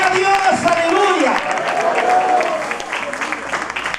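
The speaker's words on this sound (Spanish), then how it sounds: "aplauso al Señor, aleluya" A church congregation applauds the Lord during a sermon, steady clapping and crowd noise with voices calling out over it, tapering slightly toward the end.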